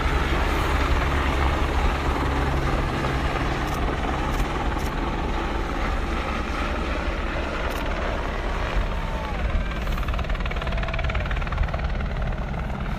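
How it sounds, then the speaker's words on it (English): Steady low rotor drone of helicopters passing overhead during a police raid on a protest camp, constant and fairly loud throughout with no talking. "Helicopters keeps on coming by."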